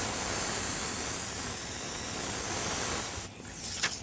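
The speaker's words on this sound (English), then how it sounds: "So I'm just going to kind of spray up to it" An airbrush sprays paint onto a skull design in a steady, close, continuous hiss that cuts out briefly near the end before a short final burst.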